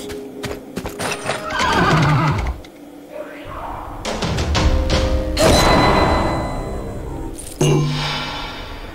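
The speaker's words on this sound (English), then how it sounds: "Come here, horse! Apparently I have a horse." A horse in a video game neighs and whinnies loudly, with clip-clopping hooves and thuds in bursts, and keyboard tapping is heard between them.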